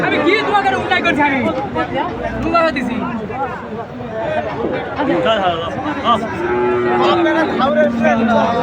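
Cattle moo repeatedly in long low calls amid a busy crowd of people talking loudly nearby at a border cattle market in Panchbibi, Joypurhat.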